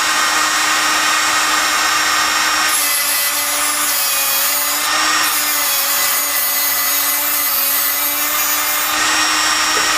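A tungsten welding electrode tip being ground on the diamond wheel of an HTP Tungsten Sharp, giving a loud continuous high-pitched whine and grind with small shifts in pitch as the electrode is turned.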